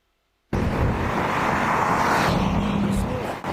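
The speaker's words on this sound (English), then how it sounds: "So it's just someone driving a car, and you can see a line for gasoline." A car drives past a queue of vehicles waiting for gasoline, a steady, fairly loud broadband engine and road rush that starts abruptly and holds close by for about three seconds.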